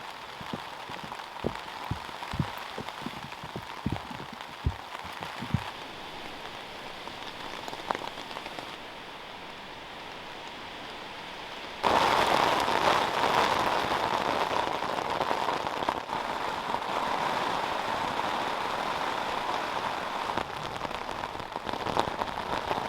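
Heavy rain pours down steadily on a wild North Atlantic island campsite, a dense hiss that swells louder midway, with a few scattered drips and taps early on.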